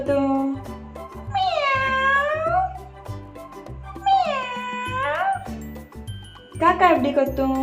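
A human voice imitates a cat meowing for a baby, giving three drawn-out, whiny meows with rising and falling pitch over a steady, bouncy children's backing beat.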